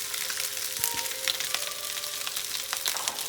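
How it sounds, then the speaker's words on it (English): Rice frying in hot oil in a pan gives a steady close sizzle with scattered crackles and pops throughout. "I just drop the rice in there."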